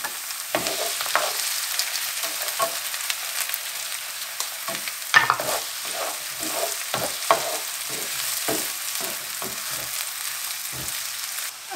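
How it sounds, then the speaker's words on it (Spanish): Onion and chile fry in a pan with a steady close sizzle, broken by repeated scraping and clicking stirring strokes, with no talk. "Vamos a empezar a freír lo que picamos. Vamos a dejar la cebolla unos minutitos primero."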